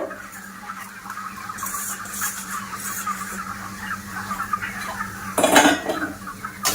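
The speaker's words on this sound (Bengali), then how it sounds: "তো প্রথমে সুজিটা ভাজা করে নেব।" Semolina being lightly roasted in a spoonful of ghee in a pan, with soft scraping and clinking of a spatula against metal over a low sizzle, plus a louder clattering burst near the end.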